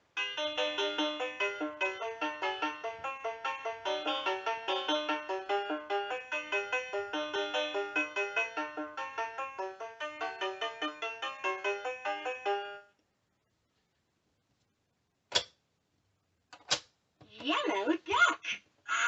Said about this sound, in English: Farmer Tad, listen to my banjo.